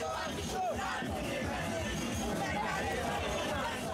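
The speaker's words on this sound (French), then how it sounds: "Des centaines de milliers d'Haïtiens envahissent les rues." A huge Haitian carnival crowd fills the streets, dancing and singing, its dense roar of voices, shouts and chanting steady and close throughout.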